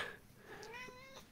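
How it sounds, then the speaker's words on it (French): A small male house cat meows repeatedly while being stroked indoors, its soft, rising cries drawn out and close to the ear, with no talking over them. "Je vais caresser le petit chat."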